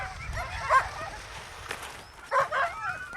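Sled dogs in Uummannaq, Greenland, give a few barks and yips, a couple of close bursts standing out over a low rumbling background.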